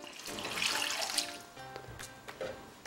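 750 ml of water poured into a pot for one-pot pasta with courgette and shrimp: a steady splashing stream that builds, then tapers into scattered drips and small splashes near the end, close and moderately loud.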